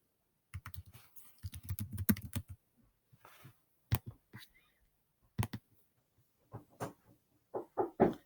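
Computer keyboard typing close up, with a quick run of rapid keystrokes followed by sparse, isolated clicks and short bursts of taps, all without talk.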